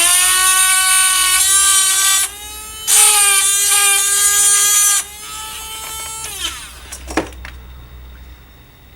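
A small Amtech mini drill with a diamond burr whines at a high, steady pitch while grinding stainless steel, briefly easing off twice before spinning down to a stop.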